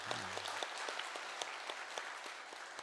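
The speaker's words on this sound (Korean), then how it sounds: "우리 응원의 박수 한번 하겠습니다" A church congregation applauds its school teachers with steady, dense clapping that fills the space from start to finish, with no voices over it.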